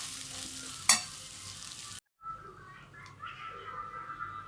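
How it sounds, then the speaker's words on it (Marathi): Fresh turmeric sautéing in a pan over a low gas flame, a steady sizzle with one sharp utensil tap, a brief dropout, then softer frying with faint stirring. "हळद परतायला उशीरचा लागतो बारीक गॅसवर चांगली परतायला लागते हळद"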